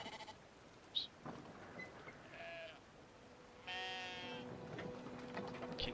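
A sheep bleats in the video game Brothers: A Tale of Two Sons, one drawn-out, wavering bleat standing out clearly over a soft outdoor ambience, with a few faint thumps and shorter animal calls before it.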